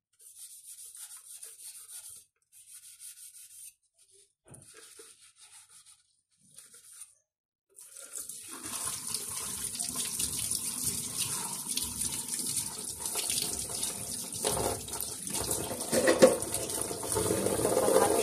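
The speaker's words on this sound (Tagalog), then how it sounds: "So, hugasan po natin itong ating kutsilyo." A kitchen knife rinsed under a running tap, with short broken trickles at first, then a steady loud gush of water splashing into the sink that continues to the end.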